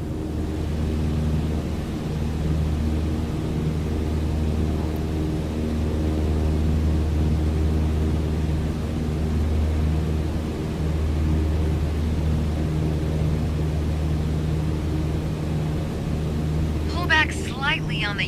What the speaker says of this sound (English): Alright, go full throttle and start climbing.